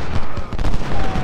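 Musket and cannon fire in the strategy game Ultimate General: Civil War: a brief, dense, loud crackling fusillade of overlapping shots with heavy low thumps, no voice over it.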